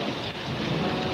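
A thunderstorm with rain plays back from a video after a lightning flash: a brief burst of steady rain hiss over a low rumbling undertone, with no voices.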